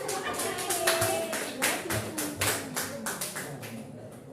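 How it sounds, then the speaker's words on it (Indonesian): An audience of teachers clapping at a school good-practice dissemination session, a dense round of close, irregular hand claps that gradually thins out. "Kita kasih tepuk tangan."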